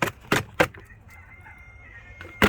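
Backyard chickens clucking and squawking close by in short, loud bursts, with a rooster-like crow in the quieter stretch between the calls.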